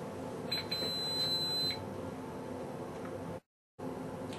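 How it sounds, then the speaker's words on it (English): A short high electronic door chime beep from a DSC security system keypad sounds twice over a steady room hum, followed by a brief dropout. "If you open a door after enabling the chime, the keypad will beep."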